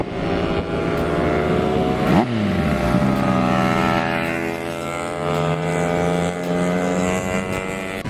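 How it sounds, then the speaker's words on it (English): Loud, steady engine drone from motorcycles and racing cars on an Alpine mountain road, with one rising-and-falling pass near the start and continuous revving throughout, no voices. "the constant noise of motorcycles and racing cars"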